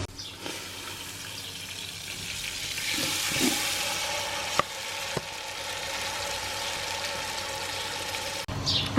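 Marinated chicken for a lemon-yogurt biryani cooks in a pan, giving a steady broadband sizzle and frying hiss with occasional stirring clicks and scrapes; no one speaks.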